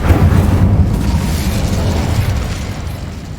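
Incendio fire spell cast in the video game Hogwarts Legacy, a loud sustained roaring whoosh of flame with a heavy low rumble and no pauses.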